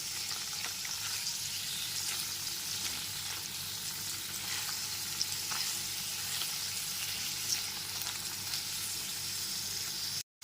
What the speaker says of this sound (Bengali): পনিরের টুকরোগুলোকে এপিটোপিট করে হালকা করে ভেজে নেবো